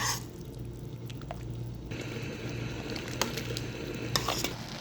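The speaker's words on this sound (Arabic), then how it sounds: "حط الخلطة اللي عملتها فوق البازيلا، حطها كلها، حركها." A tomato mixture is stirred into peas cooking in a pot, giving a continuous wet simmering sizzle with occasional spoon clinks, close and steady.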